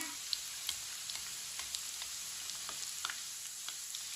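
Chicken kulfi kababs frying in oil in a pan, giving a soft, steady sizzle with small scattered pops and crackles, quiet and close, with no talking.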